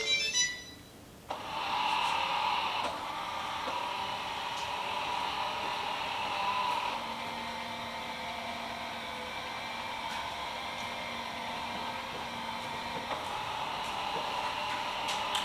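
Samsung Jetbot Mop robot with dual spinning pads starting up after a short beep, then running with a steady whirring motor hum and faint tonal whine, close and continuous.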